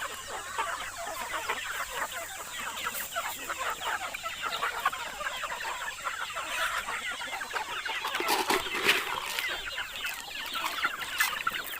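Chickens cluck and chatter together in a backyard home coop, a dense, continuous layer of overlapping calls held at an even level throughout, with no one speaking.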